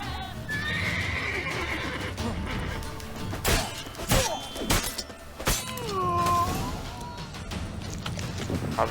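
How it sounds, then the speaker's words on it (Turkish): A horse in The Witcher 3 neighs loudly several times, with hoof clip-clops and a sharp crash mixed into a busy game soundscape. "sabahtan beri kişneyip duruyor"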